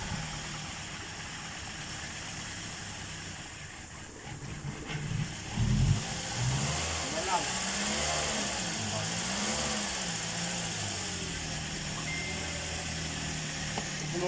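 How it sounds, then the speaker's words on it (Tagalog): A 2009 Toyota Vios engine runs steadily at idle after a top overhaul, close and continuous, with a brief rev and rougher patch partway through before settling back into an even idle. "umandar na yung pinag-overhaul natin na Vios 2009"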